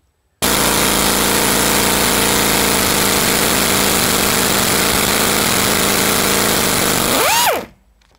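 A Vibro Impact glow plug remover driven by compressed air works loose a rusty, seized brake bleed nipple, giving a loud, close, steady pneumatic rattle for about seven seconds that then winds down and stops.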